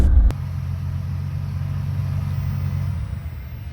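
A sleeper ute's engine drones at a steady, fairly loud rev that holds without climbing much, the low rumble of a vehicle straining under load with no voices.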